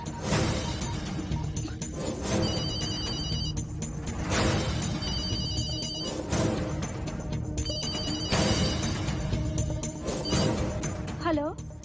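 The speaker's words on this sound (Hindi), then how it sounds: "फोन ये लो" A telephone ringtone rings in repeated short electronic bursts against a busy background of music and effects in a dubbed Hindi film scene.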